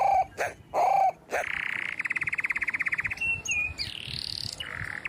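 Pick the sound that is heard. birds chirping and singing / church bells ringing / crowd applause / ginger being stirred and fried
birds chirping and singing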